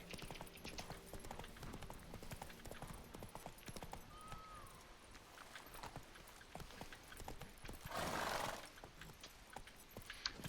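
Roach's hooves clip-clop steadily on a road in The Witcher 3: Blood and Wine, a quiet continuous trot with a brief louder swell near the end and no speech.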